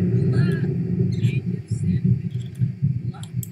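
Low rolling thunder rumbles steadily through a stormy scene in The Sims 4, a continuous deep grumble under light game sounds throughout.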